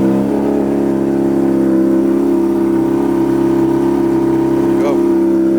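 A rebuilt 2008 Honda CBR600RR sport bike with its exhaust fitted runs at a steady, loud idle, a throaty drone throughout, with one brief blip of revs near the end.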